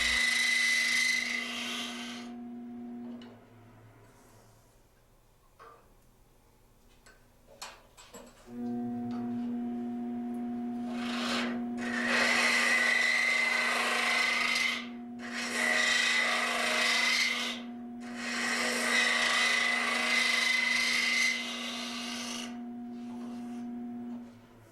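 A woodturning gouge with a short bevel angle cuts the inside of a wooden capsule box on a lathe, a loud rasping scrape in several long passes with pauses between, over a steady motor hum.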